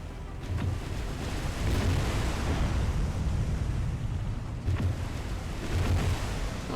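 Naval guns fire from a warship in the War on the Sea video game. A few heavy, distant booms land at irregular moments over a constant low rumble of sea and wind.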